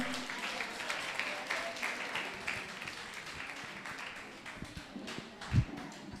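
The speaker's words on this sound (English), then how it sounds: "Let's give Devanandan a huge round of applause" Audience applause at a school event at Benchmark International School, a moderate, steady patter of clapping that thins out toward the end, with a brief louder knock near the close.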